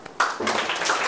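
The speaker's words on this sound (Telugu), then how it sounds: "Very good, clap her." Children in a classroom clapping for a classmate, a brief burst of quick overlapping claps starting sharply and continuing steadily close by.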